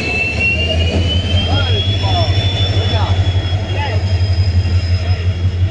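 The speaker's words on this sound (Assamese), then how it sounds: "আমাৰ ট্ৰেইন আহি পাইছে এইখন ট্ৰেইন চাওক ভালকৈ চাওক" A train pulls into a railway station in Nalbari, Assam, with a loud, steady engine drone and a thin high whine sliding in pitch over it, while people talk nearby.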